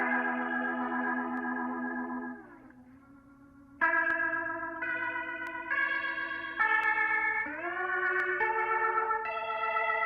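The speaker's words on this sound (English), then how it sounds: "they add what sounds like a Leslie rotating cabinet to the pedal steel" Pedal steel guitar played through a Leslie rotating speaker cabinet, sustained sliding chords with a swirling, wavering chorus-like shimmer, notes gliding between pitches with a brief quieter dip in the middle, no voices.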